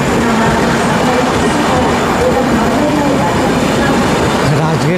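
The Buddha Purnima Express, bound from Rajgir to Banaras, rumbles past alongside a moving train in a loud, continuous roar with rhythmic wheel clatter, heard from close by on board.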